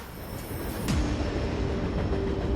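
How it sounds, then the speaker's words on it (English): A heavy train climbs a wet grade on an Australian railway, losing speed; a steady low rumble and rolling noise swells slightly and continues loud and close, without talk. "It's starting to drop now as we bite into the grade. The train is losing momentum."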